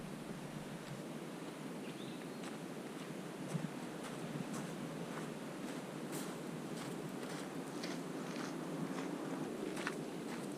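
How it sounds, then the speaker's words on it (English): Ocean surf rolls in close to a cottage deck on Cape Breton, a steady broadband wash of breaking waves with some wind noise, continuous and fairly loud with no talking. "it's really close to the ocean. You can hear it the whole night"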